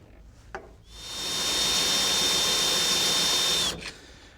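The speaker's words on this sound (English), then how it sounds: "Yeah, you need to drill your bed" A power drill boring a hole through a GMC Sierra pickup's truck bed: a brief tap, then a steady high whine rising to full speed for about three seconds before winding down.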